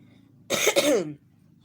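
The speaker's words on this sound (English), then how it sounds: "I have a terrible cough" One harsh, throaty cough burst, close and fairly loud, lasting under a second over quiet background hiss.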